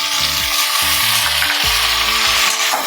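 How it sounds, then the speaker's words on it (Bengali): Chopped tomato sizzles loudly in hot oil in a pan for a Bengali fish curry, a dense continuous frying hiss with a spatula stirring and scraping in short repeated strokes. "এটা দিয়ে আমি ভালো করে একটু কষিয়ে নেব। দিয়ে দিচ্ছি টমেটো কুচি,"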